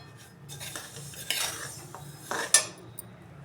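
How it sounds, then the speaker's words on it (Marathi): Sesame seeds are stirred with a spatula in a pan over a gas flame, the utensil scraping and rustling through the dry seeds with intermittent metallic clinks and one louder knock against the pan. "या वाटेच्या साह्याने आता बारीक गॅसवर आपल्याला चांगलं हे हलवून घ्यायचं आहे"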